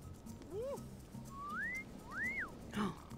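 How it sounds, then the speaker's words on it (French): A character in The Sims gives a few short, clear whistles with rising and falling sweeps, like a wolf whistle, over quiet game ambience, ending with a brief vocal exclamation. "lui, il vient de siffler quelqu'un"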